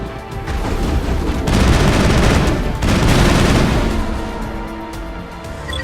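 Geth turrets in the Mass Effect video game pour out loud, continuous gunfire, a dense rattling barrage of rapid shots with booming bursts that swell and ease over several seconds, with no voices.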